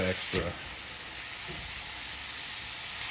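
Sausage fries in a pan for gravy with a steady, broadband sizzle, and a couple of brief clatters near the start, suggesting the pan is being stirred.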